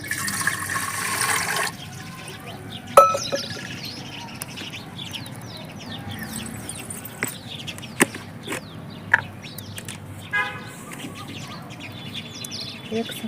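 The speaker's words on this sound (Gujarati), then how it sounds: "કુકર મૂકી દેવી, કળશો એમાં પાણી નાખી દેવી." A potful of water poured into a pressure cooker holding maize cobs makes a loud, steady rush for about two seconds, then stops abruptly. Afterward birds chirp and cluck faintly nearby, with scattered sharp clicks and knocks.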